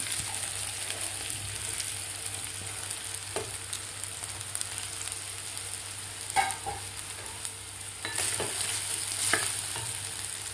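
Soaked sabudana is stirred and fried in a pan with curry leaves and chillies, making a soft, continuous sizzle with occasional scraping knocks of a spoon, fairly quiet and close.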